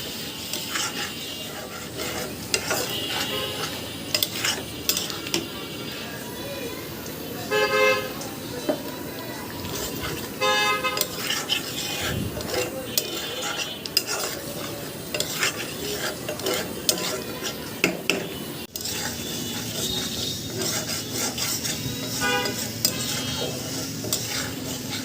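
Blended ghatkol leaf-and-stem paste goes into a pan of fried fish masala, stirred with scraping spoon strokes over a steady sizzle, with faint street traffic and a distant car horn in the background.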